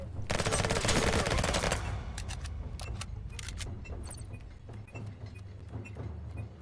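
Gunfire in the online shooter Venge.io: a long, loud, rapid automatic burst, then scattered single shots and short volleys over a low game background.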